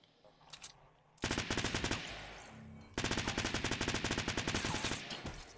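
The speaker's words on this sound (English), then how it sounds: "That's a fucking submachine gun." Submachine gun bursts in the video game Fortnite: two long rapid automatic volleys, loud and close, separated by a short pause, with brief quieter shots before and after.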